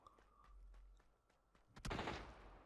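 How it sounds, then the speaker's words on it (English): A few sharp gunshots crack at intervals in the video game PUBG: Battlegrounds, then a louder burst of gunfire erupts near the end, with faint footsteps in between. "Oh man, the gunshots in this game"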